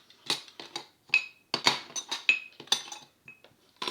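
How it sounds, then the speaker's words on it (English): Screwdrivers and small metal odds and ends clink and clatter as they are pushed aside on a workbench during a security camera teardown, a string of close, sharp metallic knocks and jingles with brief pauses. "just moving all the screwdrivers and doodads aside"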